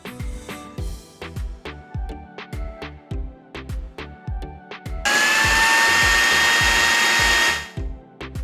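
A miniature mixer grinder blends watermelon: a run of rhythmic mechanical clicks leads into a loud, whirring burst of about two and a half seconds that then cuts off, with no talking.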